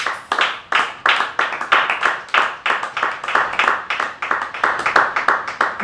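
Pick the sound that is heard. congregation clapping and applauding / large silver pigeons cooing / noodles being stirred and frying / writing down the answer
congregation clapping and applauding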